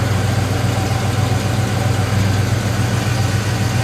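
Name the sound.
car engine running with divorced automatic choke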